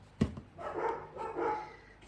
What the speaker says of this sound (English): Oh, there goes my dogs.